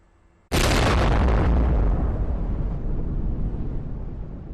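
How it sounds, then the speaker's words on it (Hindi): SEBEX 2 non-nuclear explosive detonating: a single sudden loud blast after a brief quiet moment, followed by a long rumbling roar that slowly fades. "भारत ने दुनिया का सबसे ताकतवर विस्फोटक तैयार किया है"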